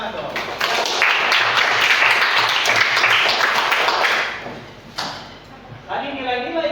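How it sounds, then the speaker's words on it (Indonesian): Applause from an audience at a school teachers' session, a dense burst of clapping lasting about four seconds before fading out, followed by someone speaking. "Luar biasa, tepuk tangan dong."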